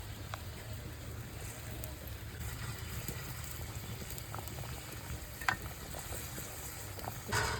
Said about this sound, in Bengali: জল ফুটতে গেছে, এবার মাছ দিয়ে দিতেছে।